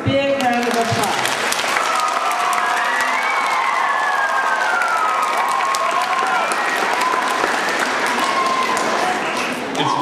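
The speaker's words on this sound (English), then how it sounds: "Let's give Eric a big round of applause." Loud, continuous applause with cheering from an audience, children among them, at an award ceremony for a toy award winner, sustained and dense throughout with shouts riding over the clapping.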